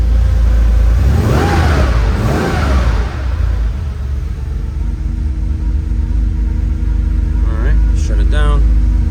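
Engine of a 1984 Porsche 911 hot rod running after a cold start, a steady close idle rumble with a couple of rising revs early on, while a voice talks over it.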